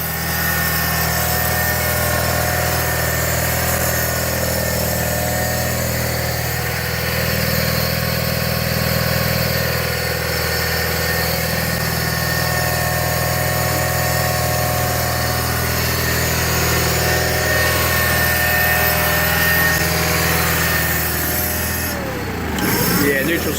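A 1985 John Deere 318 garden tractor running steadily after a three-month cold start, its engine drone joined by a loud whining pump, constant and close for over twenty seconds before a brief disturbance near the end.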